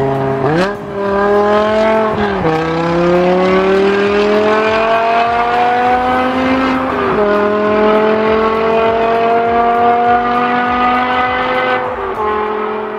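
A powerful high-revving BMW S62-family V10 (507 hp, as in the M5) in a Wiesmann MF5 sports car climbs through several gears, each pitch rise ending in a brief drop at the shift, loud and close throughout.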